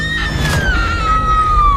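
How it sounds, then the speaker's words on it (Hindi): A woman's long, shrill scream from a Hindi horror cartoon story, a single sustained cry whose pitch slowly falls, loud and close, over a low background rumble. "कुछ देर बाद उसे उसकी बीवी की एक चीख"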